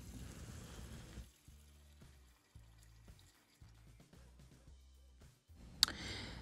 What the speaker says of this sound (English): we are going to fill our pot up with some cold water